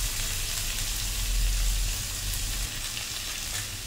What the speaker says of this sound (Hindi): देखिए किस तरीके से फ्राई हो रही है